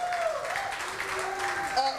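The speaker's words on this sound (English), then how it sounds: "Give him a round of applause." An audience at the Roberto and Vera Clemente Life Commemoration Event applauds Councilman Amilcar Hernandez with a diffuse spread of clapping, while a voice and tonal sounds carry over it.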